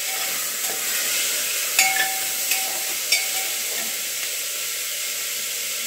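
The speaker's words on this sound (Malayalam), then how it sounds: "എല്ലാ വെജിറ്റബിൾസും കൂടെ ഒരുമിച്ച് ഇട്ട് കൊടുത്തു. അതൊന്ന് മൂത്ത് വരട്ടെ." Mixed vegetables frying together in a pan, a steady close sizzle with a few sharp ladle clinks against the pan and no voices.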